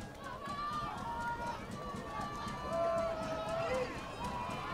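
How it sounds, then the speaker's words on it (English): A high school football crowd at Baldwin Woodville vs West Salem swells into a steady roar of cheering and shouting, rising in loudness midway under continuous announcer talk. "The crowd amps up."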